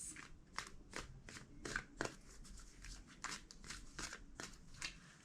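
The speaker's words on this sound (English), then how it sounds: "Two more shuffles." A deck of tarot cards being shuffled over and over, a steady series of quiet papery slaps and soft riffles at an even pace, close but faint, with no voices.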